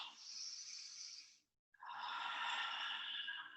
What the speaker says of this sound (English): Notice when I'm breathing, my whole body is breathing.